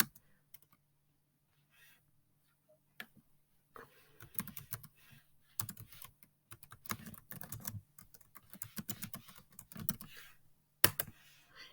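Computer keyboard typing in short irregular bursts of crisp clicks, close and fairly quiet, separated by brief pauses with one sharper key strike near the end.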